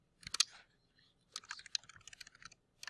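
Quiet bursts of keystrokes on a computer keyboard, a short cluster of clicks, a pause, then a longer run of light, irregular typing, close and alone.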